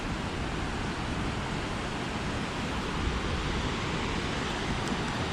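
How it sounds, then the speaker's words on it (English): Good-sized river flowing beside the Old Stone Fort, a steady broadband rushing wash that stays even throughout, heavy and close with some wind on the microphone. "Wow, it's a pretty good sized river right there."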